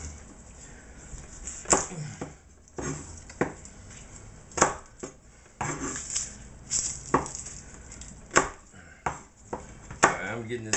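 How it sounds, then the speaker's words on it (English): Knife blade whacking and chopping garlic on a cutting board in a home kitchen, a series of sharp irregular thuds with short pauses between bursts, close and fairly loud. "Whacking that garlic, keeping the other knife off the station, and whacking that garlic"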